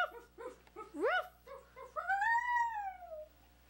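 A dog gives a few short yips and whimpers, then a long rising and falling howl, close up and fairly quiet.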